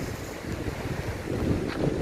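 Steady wind buffets the microphone outdoors near a château, a continuous low roar with rushing gusts that swell slightly louder toward the end, with no voices.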